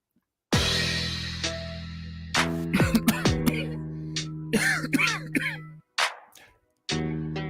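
A person coughs in a series of harsh, hacking bursts after taking a drink, loud and close, with a few breathy gasps and throat-clearing sounds between the coughs.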